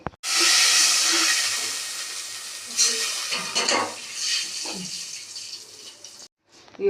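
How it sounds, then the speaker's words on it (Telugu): Water poured into a ghee-coated pan to start sugar syrup for rava laddu, giving a loud, steady hissing rush that runs for about six seconds, gradually thins, then cuts off abruptly. "ఇప్పుడైతే ఇందులోనే కొంచెం వాటర్ వేసుకుందామండి పాకానికి చక్కెర పాకానికి"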